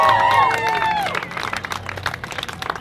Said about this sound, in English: Let's hear a cheer for them.